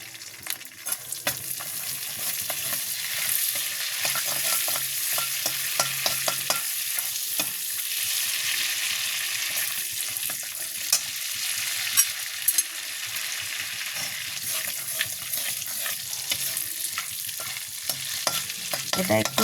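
Cinnamon and cloves fry in butter in a wok, a steady bright sizzle running throughout with scattered clicks and scrapes of stirring, close and fairly loud, no talking.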